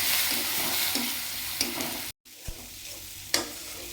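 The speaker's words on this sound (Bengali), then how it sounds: "সব একসঙ্গে দিয়ে মশলাটা ভালো করে এগুলো কষিয়ে নেব" Spice mix of salt, turmeric, roasted cumin, coriander powder, chaat masala and Kashmiri chilli powder frying and being stirred in a pan, a steady loud sizzle with scraping strokes and a brief gap midway.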